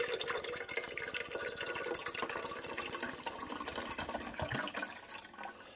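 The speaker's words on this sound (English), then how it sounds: "I'm going to pour this whole concentrated bottle in there." Keurig descaling solution is poured from a bottle into a Starbucks Verismo coffee and espresso maker, a steady, faint gurgling stream with drips running for several seconds.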